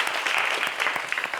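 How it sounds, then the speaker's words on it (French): A studio audience claps steadily for a guest on a French entertainment show, a dense, even patter of many hands that holds for the whole moment with no voices over it. "Applaudissez pour Antoine."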